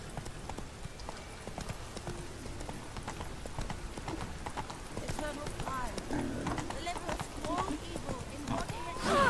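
Roach, a horse in The Witcher 3, gallops with steady rhythmic clip-clop hoofbeats and an occasional whinny, layered over game music and talk throughout.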